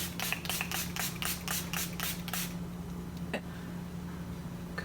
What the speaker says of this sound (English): I'm gonna put some setting spray.